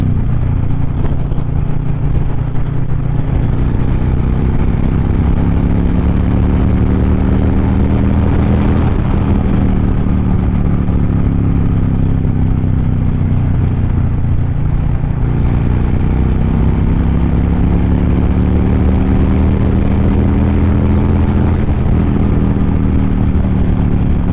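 A motorcycle engine drones loud and close through autotune runs in low gears, its pitch rising and falling in long sweeps as the rider goes up and down through the revs, with no voices.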